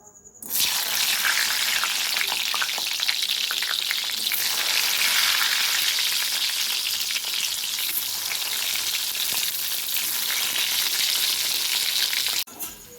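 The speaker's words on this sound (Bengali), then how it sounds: "একে একে সমস্ত সবজিগুলো আমি ভেজে নেব।" Vegetables fry in mustard oil in a wok, a loud, steady broadband sizzle that holds for about twelve seconds before cutting off abruptly near the end.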